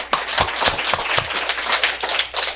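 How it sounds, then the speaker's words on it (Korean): Audience at a talk on work and passion gives a short burst of clapping, a handful of close, uneven claps rather than a full ovation. "박수 한번 드리겠습니다."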